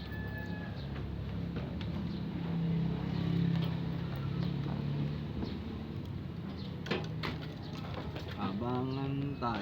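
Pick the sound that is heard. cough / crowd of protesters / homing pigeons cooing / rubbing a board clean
homing pigeons cooing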